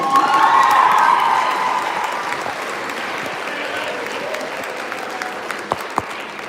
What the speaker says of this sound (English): I want a big round of applause at the beginning and at the end